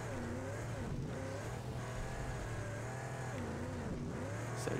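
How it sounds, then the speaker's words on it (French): Car engine in the Mad Max video game, loud and continuous, its pitch rising and falling as the revs shift through the gears, with no talk over it. "J'adore l'entendre le bruit du moteur qui change,"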